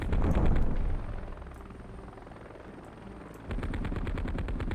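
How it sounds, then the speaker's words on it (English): A machine gun fires in a video game, a dense rattling burst that is loud at first, dips lower in the middle and then picks up again, with no talk over it. "Other than with this machine gun."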